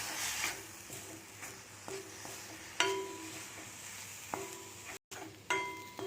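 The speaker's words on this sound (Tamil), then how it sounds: "தக்காளி நல்லா ஃப்ரை ஆகட்டும்." Tomatoes fry in a pan for brahmi leaf (vallarai keerai) chutney with a soft, steady sizzle, broken by several sharp clinks of a spoon against the pan as they are stirred.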